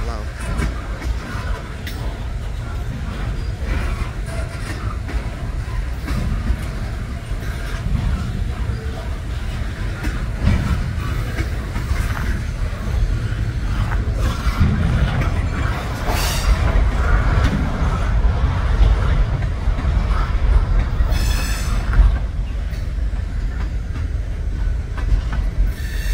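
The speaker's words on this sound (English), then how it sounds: "They're running some long trains, and maybe just because it's going slow" A long freight train rolls slowly past up close with a continuous rumble, rhythmic wheel clacking and intermittent metallic wheel squeals.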